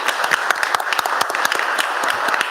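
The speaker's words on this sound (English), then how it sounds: "So could we all give a round of applause for George Finn?" An audience at a town council meeting in Barrington breaks into steady applause, many hands clapping together in a dense, even patter from a room-sized crowd.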